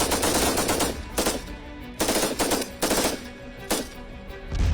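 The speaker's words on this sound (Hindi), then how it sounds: "ताबड़तोड़ गोलियां चल रही हैं" Rapid bursts of machine-gun fire from an Indian Army firing exercise in the Rajasthan desert, several loud close volleys separated by brief gaps, each a dense rattling string of shots.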